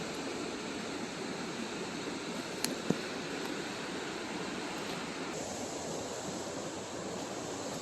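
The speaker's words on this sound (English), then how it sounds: "you can see on this side the water is flowing down here, and there's a back current over here" River water flows steadily near a set of lower falls at a crown land campsite, a constant, even rushing wash with no pauses, fairly faint and heard alone.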